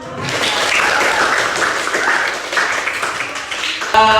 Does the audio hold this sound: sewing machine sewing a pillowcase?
no